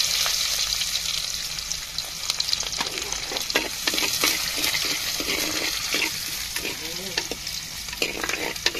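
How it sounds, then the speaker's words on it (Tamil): Onions sizzle in hot tempering oil for fish curry, a continuous hiss broken by a run of stirring clatters and spatters in the middle; no talking. "இப்ப வெங்காயத்தை தாளிப்புக்கு சேர்த்துக்கிடுவோம்."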